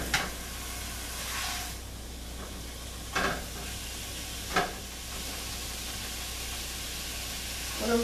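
Ground beef sizzles in a pan for spaghetti sauce, a steady hiss broken by a few brief scraping stirs; close and moderate, no talking.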